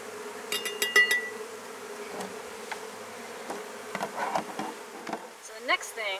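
Honeybees buzz steadily nearby during a sugar shake test for varroa mites, a droning hum with occasional louder passes and some light tapping.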